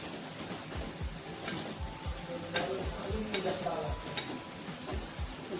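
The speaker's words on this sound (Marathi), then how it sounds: "हे आपल्याला व्यवस्थित असं मिक्स करून घ्यायचं आहे" Homemade masala with chilli being stirred in a hot cooking pan: a soft, continuous sizzle broken by repeated rhythmic spoon scrapes, fairly quiet and close, with no speech.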